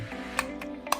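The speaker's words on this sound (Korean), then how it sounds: "이 상태에서 필름 레버를 끝까지 감아줍니다" The film advance lever of a Nishika N8000 four-lens film camera is wound to its end, giving a few soft ratcheting clicks over a low steady hum.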